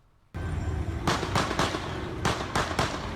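Gunfire in a shootout at a gas station and convenience store in Laredo: a loud steady rumble with several sharp, rapid cracks in two clustered bursts, no talk.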